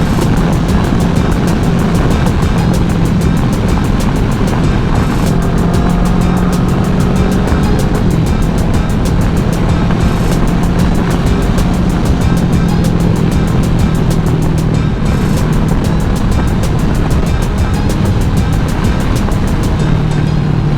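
A 150cc motorcycle runs fast on an open road with a steady, loud engine drone mixed with heavy wind rush that continues throughout.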